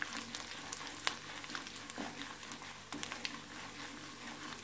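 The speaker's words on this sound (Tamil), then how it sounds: "நல்லா அது பொரியட்டும்" Chana dal frying in a generous pour of sesame oil, a soft, steady sizzle with faint crackles and a few sharper pops, fairly quiet and with no voices.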